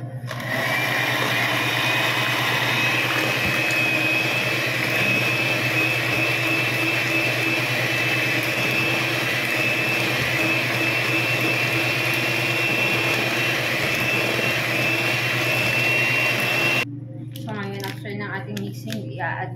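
An electric mixer whips cream for a cream caramel biscuit dessert, a steady loud motor whine running continuously for most of the clip before cutting off near the end.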